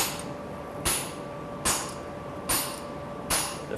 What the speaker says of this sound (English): Take a little set hammer.